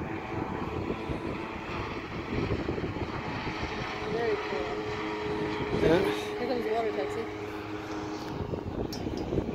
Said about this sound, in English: That's a water taxi.